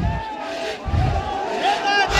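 A dense crowd at a packed political gathering chants slogans in rhythmic bursts, voices rising and falling together in a loud, continuous roar.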